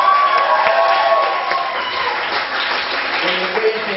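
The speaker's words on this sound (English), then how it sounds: "please give a round of applause to Callum for organising this evening" Audience at a live comedy night in Bournemouth applauding and cheering, steady dense clapping throughout that eases slightly partway through, with a few shouts from the crowd.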